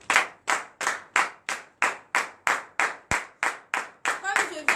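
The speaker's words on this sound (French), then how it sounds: "Donnez de vives acclamations à Jésus." A congregation at a morning prayer service in Benin claps in unison in a slow, even rhythm, about a dozen strong beats, with cheering voices rising over the final clap.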